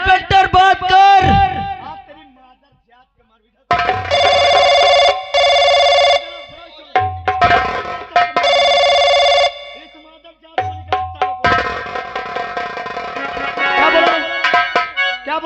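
A telephone rings in a Hindi musical stage drama, with repeated loud electronic ringtone bursts separated by short gaps, alongside voices and music.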